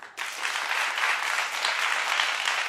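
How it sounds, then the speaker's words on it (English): A studio audience on a talk show bursts into sustained, loud clapping that starts abruptly and continues evenly. "Clap if you thought it was weak."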